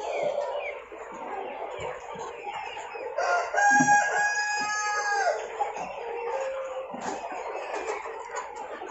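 Mixed-breed hens cluck steadily in a busy farm yard in Punjab while a rooster crows loudly partway through, with more clucking continuing around it.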